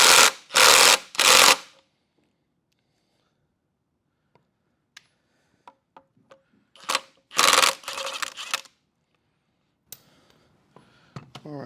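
A power tool runs a pulley off a 1949 Willys truck engine in a few short, close whirring bursts, with scattered clicks and clunks in the gaps between them.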